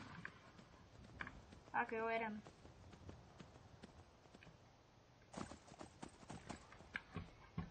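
Horse hooves clop at a steady walking pace in Skyrim, fairly faint, while someone speaks briefly over them; the hoofbeats grow louder near the end.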